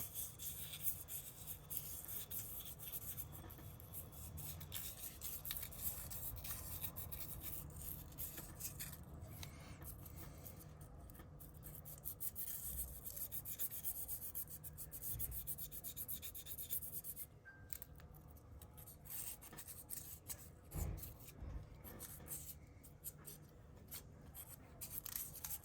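Parts of an M109 self-propelled howitzer scale model being sanded: a faint, continuous close-up scratchy rubbing that runs steadily for the whole stretch with small irregular strokes and no voices.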